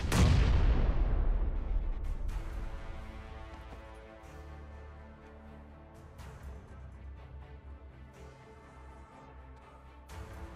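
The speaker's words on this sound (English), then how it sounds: "That was me throwing grenades over towards him." In PUBG Battlegrounds, a grenade blast booms loudly at the start and rumbles away, followed by fainter distant pops and another explosion near the end.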